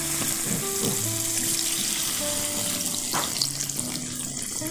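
Water hisses into a hot pan of frying spicy beef innards, a steady close sizzle and bubbling that rises with a brief splashy burst, and no one talks.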